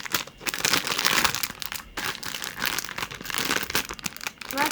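Plastic packaging around a Labubu toy is crinkled and torn open up close, with loud, irregular crackling and rustling bursts throughout.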